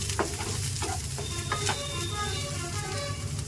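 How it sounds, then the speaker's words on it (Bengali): Onion and green chillies fry in a pan for a potato curry, a dense, close sizzle running continuously with a few scraping stirs on top and no voice. "এবারে পেঁয়াজটাকে দিয়ে ভালো করে কিন্তু ভেজে নেব"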